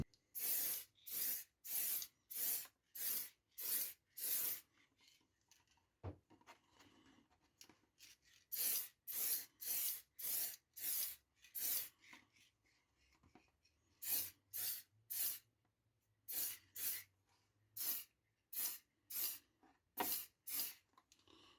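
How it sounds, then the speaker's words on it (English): Aerosol can spraying a black base coat onto an RC car body, heard as close, loud hissing bursts in quick rhythmic runs of about half a second each, grouped in several series separated by quiet pauses, with no talking. "now I'm going to do my black base coat all over the whole lot"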